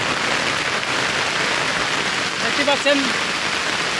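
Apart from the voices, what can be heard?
heavy downpour of rain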